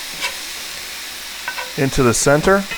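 Beef burgers sizzle steadily in a skillet after being flipped, a close, even frying hiss that runs throughout, with a voice speaking over it in the second half.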